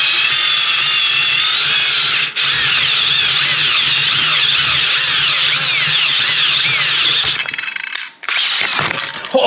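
A power drill bores loudly and continuously into an aluminum fuel cell surge tank, with a high, whining metal screech that cuts off near the end.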